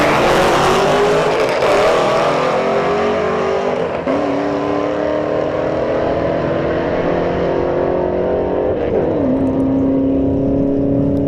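Camaro SS and Neon SRT-4 launching side by side at a drag strip, loud engines roaring and rising in pitch through gear shifts, then fading as the cars pull away.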